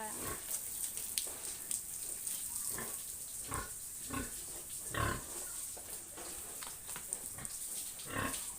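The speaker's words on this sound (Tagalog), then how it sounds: "papaligo na naman tayo ng mga alaga nating baboy" Several pigs on a farm, waiting before their bath, grunt and squeal in short irregular bursts, fairly close, with a steady high hiss behind them and no talking.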